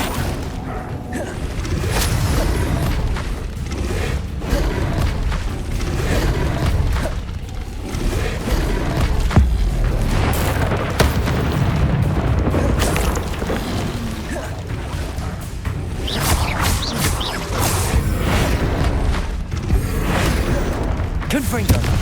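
Repeated Confringo spell explosions in the video game Hogwarts Legacy, a sustained barrage of booming blasts, whooshes and mechanical clatter, loud and continuous throughout, with voices and combat chatter layered over the din.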